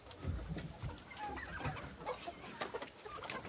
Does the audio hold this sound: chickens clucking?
yes